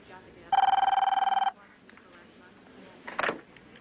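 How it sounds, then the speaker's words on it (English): Telephone ringing, one loud close burst of rapid bell trills lasting about a second, then quiet room noise and a short brief sound near the end. "getting to know the sound of your ring"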